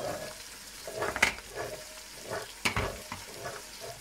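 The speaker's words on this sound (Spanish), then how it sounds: "Por aquí ya me veis que estoy friendo el bacalao." Quiet frying of battered cod pieces in a pan, a soft crackling sizzle punctuated by a few sharp clatters and scrapes of stirring, close up and without talk.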